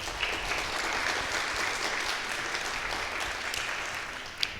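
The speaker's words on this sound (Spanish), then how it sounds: "a quien le pido lo podamos recibir con un aplauso" An audience applauds to welcome an ambassador at a diplomatic history lecture: even, sustained clapping from a roomful of people, moderately distant, with a single sharper clap near the end.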